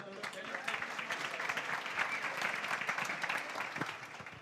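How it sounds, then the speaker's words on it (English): An audience at a startup pitch event gives a round of applause for the jury and the first speaker, steady, fairly quiet clapping sustained for several seconds. "I want that you give a huge round of applause to both the jury and"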